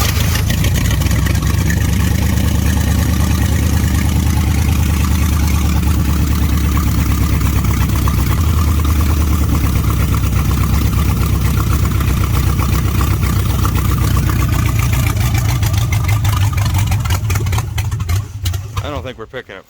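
A Mopar 440 V8 in an old motorhome runs loud and close, a rough steady engine rumble that keeps going before faltering and dying away at the end, seemingly running on only the fuel left in the carburetor bowl.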